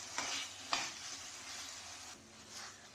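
Spiced minced keema is stirred in a pan, with a few sharp scraping strokes of a spoon over a soft, steady sizzle. Nothing else is heard, and the sound is fairly quiet and close.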